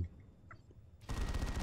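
Assault cannon in the Dawn of War 2 Wrath of the Blood Ravens mod opens up abruptly after a quiet moment, a dense continuous rattle of rapid fire that carries on to the end.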